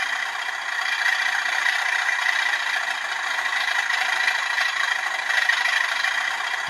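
Hornby TTS Class 37 model locomotive sound unit running its diesel engine sound, a steady rattling, whirring drone with slight vibration, constant and close with no voices.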